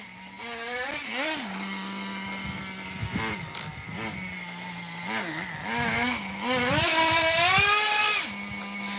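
A small nitro engine in a Megatech Nitro Razor RC car buzzes and revs up and down repeatedly, rising to high-pitched whines and dropping back to idle, fairly close.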